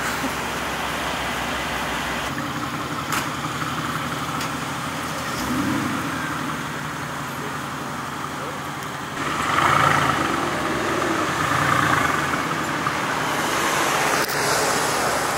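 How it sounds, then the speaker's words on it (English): A 4x4 fitted with a custom exhaust system idles steadily at close range, a low continuous rumble with surrounding roadway noise that swells slightly in the second half. "Customer just picked up her 4x4 with our custom exhaust system."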